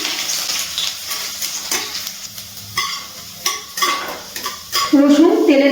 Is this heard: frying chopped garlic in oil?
yes